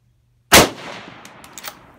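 A single loud, close rifle shot from a Remington Model 7 Predator .223 varmint rifle at a shooting range cracks out sharply, then decays with a few faint metallic clinks and echoes trailing behind it.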